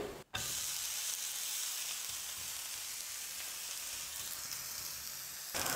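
Rava uttapam batter sizzles steadily on a hot dosa pan over a full flame, a continuous close frying hiss with a brief dip near the start.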